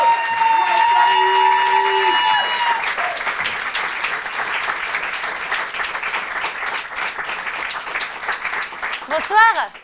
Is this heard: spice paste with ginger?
no